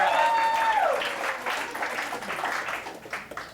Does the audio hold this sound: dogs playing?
no